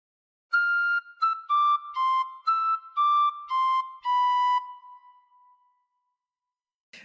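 A tin whistle plays a short melodic phrase of about eight clear notes, fairly steady and close, with the last note held and fading.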